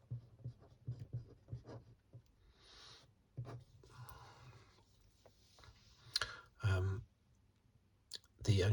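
Pen writing on paper at close range, quiet scratchy strokes and small taps in short bursts, with soft whispered talk woven through and a couple of louder bumps near the end.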